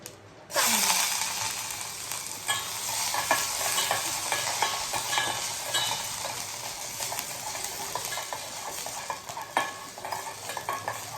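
Cumin seeds sizzling in hot oil, starting abruptly and continuing as a steady close crackle, with stirring scrapes and light utensil knocks throughout; no speech.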